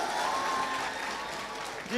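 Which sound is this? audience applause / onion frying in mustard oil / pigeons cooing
audience applause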